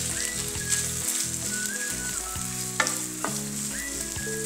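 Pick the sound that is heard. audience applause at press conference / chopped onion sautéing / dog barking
chopped onion sautéing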